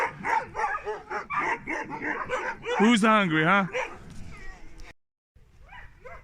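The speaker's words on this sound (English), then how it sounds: "the reason that these dogs are barking so much right now" Husky dogs bark and yip excitedly at feeding time in a rapid, close, overlapping chorus that peaks in the middle before cutting off briefly. A person speaks over the noise.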